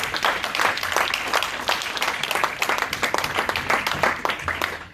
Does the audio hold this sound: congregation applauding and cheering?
yes